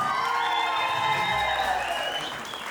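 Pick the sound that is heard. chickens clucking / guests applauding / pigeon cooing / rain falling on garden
guests applauding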